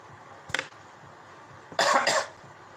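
A person gives a hemp cough, first one sharp cough and then a louder double cough, close up and alone against faint room noise.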